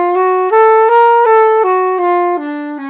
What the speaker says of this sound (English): So the augmented scale sounds like this.